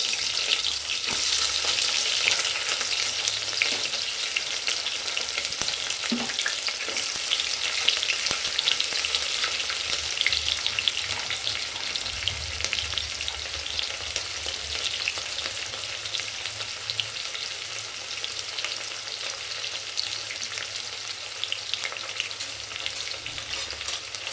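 Finely chopped onions frying with spices in a pan, a dense, unbroken sizzle that holds steady and close throughout, with faint occasional stirring scrapes underneath.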